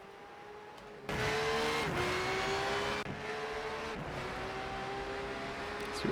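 Racing cars in the sim racing game RENNSPORT at Daytona, engines droning loudly with shifting pitch as a car drifts, tire squeal running steadily across the clip after a quiet start, with a sharp change near the middle.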